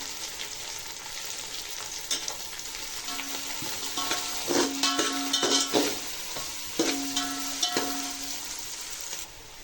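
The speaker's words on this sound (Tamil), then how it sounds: "கொத்தமல்லி, கொஞ்சம் கருவேப்பிலையும் வதக்கிக்கலாம்." Coriander, mint and curry leaves sauté in a pan, with a continuous frying sizzle that swells in the middle and carries repeated bursts of spoon stirring and scraping against the pan.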